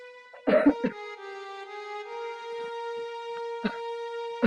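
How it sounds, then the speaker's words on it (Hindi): Person coughing at the doctor's, a few harsh close coughs and throat-clearing bursts over a steady sustained tone in the background. "और जोर से खांसिए।"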